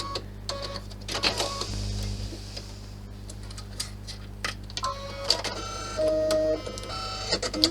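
An embroidery machine struggles to thread its needle, giving off a string of rapid mechanical clicks, whirs and short motor buzzes in uneven bursts, close by and without speech.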